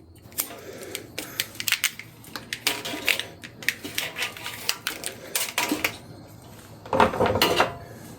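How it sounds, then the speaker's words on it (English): Plastic wire loom is pulled and cracked off old wiring on a 1969 Chevy C20 pickup, producing a run of sharp, irregular snaps and crinkling clicks close up, with a louder cluster of crackles near the end. "I'm going to take this plastic loom off"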